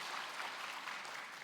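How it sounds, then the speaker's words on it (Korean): A church congregation, children's department and parents, claps together in a steady, dense round of applause heard at a moderate distance. "전도할 때 박수 한번 해주세요."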